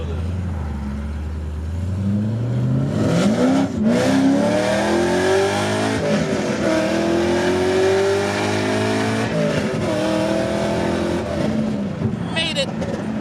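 A Cadillac CTS-V engine revs up and accelerates hard, its pitch climbing steadily across repeated pulls with a loud, close drone, while people talk over it inside the car.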